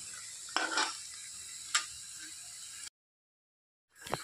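Taro fritters (kochur bora) frying in a pan, a soft continuous sizzle broken by a couple of scraping utensil strokes, then a brief gap of silence before the sizzle and a clink return.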